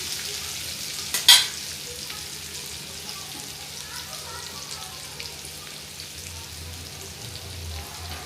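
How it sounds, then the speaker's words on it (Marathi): Ground masala paste with kokum sautéing in hot oil for a crab and prawn curry, a steady close sizzle and fry with one sharp clatter of a utensil near the start. "तेल चांगलं तापलं की आपण हे वाटण घालूया. तेलात परतून घ्यायचं आहे व्यवस्थित."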